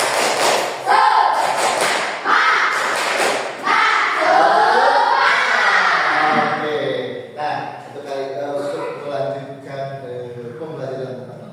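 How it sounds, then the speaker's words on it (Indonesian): Group of participants in an academic coaching session doing a rhythmic spirit clap, tepuk semangat, with loud patterned clapping and chanting voices, then fading into talk. "coba tepuk semangat dulu"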